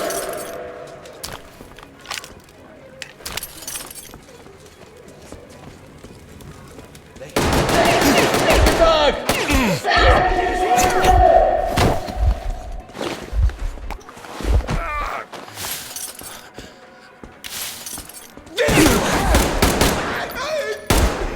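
Gunfire from the video game Metro Exodus rattles in long automatic bursts and scattered shots, loud and close, with quieter stretches between volleys and shouting voices mixed in.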